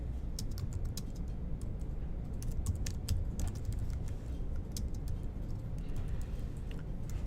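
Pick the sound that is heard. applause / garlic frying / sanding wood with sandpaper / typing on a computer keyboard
typing on a computer keyboard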